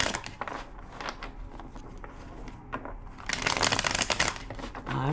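Continuous crisp riffling and shuffling of a deck of tarot cards, close up, with a louder burst of rapid shuffling toward the end.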